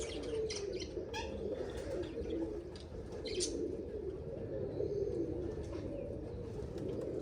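A homing pigeon coos softly while wings flap in short bursts, close by, over a steady low background hum with no talking.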